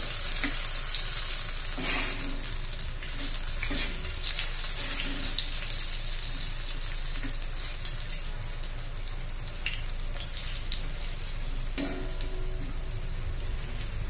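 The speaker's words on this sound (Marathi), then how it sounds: "दोन्ही बाजून छान असे तळून घ्यायचे।" Chili pepper fritters (bhaji) fry in oil over a medium flame, giving a continuous close, bubbling sizzle with occasional soft clinks and stirring sounds.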